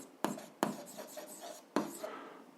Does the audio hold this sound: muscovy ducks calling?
no